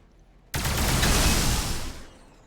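A sudden, loud burst of gunfire in Warhammer 40,000: Battlesector, Blood Angels against Necrons, erupts as a dense roaring volley lasting about a second and a half, then cuts off, leaving quiet background.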